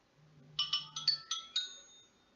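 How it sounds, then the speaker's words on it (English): A phone plays an unfamiliar alert: six quick bright chiming tones in a short run, the last ringing out, faint and alone in a quiet room. "I don't think I've ever heard my phone make that noise before."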